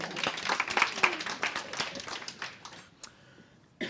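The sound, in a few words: audience applauding a speaker at a conference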